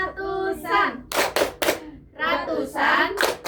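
Children in a classroom clap in short bursts of a few sharp claps between stretches of their own chanting voices, with a teacher leading a counting-places lesson.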